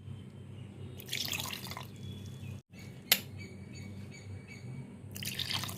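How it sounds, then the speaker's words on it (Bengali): Water is poured from a rinsed bowl into a batter of soaked dal, semolina and sour yogurt, in two short, soft splashing bursts with a single sharp click between them, fairly faint and close. "এবার বাটিটা ধুয়ে পরিমাণ মতো জল দেব"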